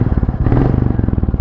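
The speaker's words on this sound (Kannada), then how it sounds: "ಇಂಜಿನ್ ಸೌಂಡ್ ಈ ಥರ ಕೇಳಿಸುತ್ತೆ" A Royal Enfield Goan Classic 350 engine running, close and loud, a fast even thumping idle beat over a brief mechanical clatter, heard alone.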